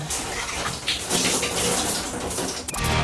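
Shower water runs steadily, a loud continuous hiss and spatter of spray, briefly shifting near the end.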